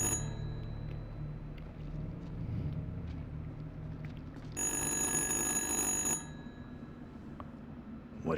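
A creepy phone rings in the horror video game Little Hope, a bright ringing burst of about a second and a half rising over faint ambient game sound.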